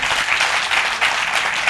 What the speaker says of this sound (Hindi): जोरदार तालियां बजा दो राजेश भाई के